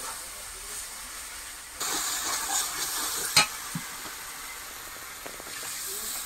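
Water poured into a pan of frying mustard-poppy spice paste for a Bengali katla fish kalia in a Sundarbans village kitchen, giving a steady hiss and sizzle that swells partway through, with a few sharp clinks of a utensil.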